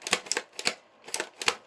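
An Air Warrior Stryker Force airsoft gun fires a quick run of about six sharp, snappy clicks in an uneven rhythm, close and crisp with no voices.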